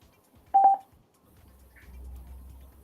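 Several quick electronic phone tones beep in a short burst, followed by a low hum and faint background murmur of a panel event.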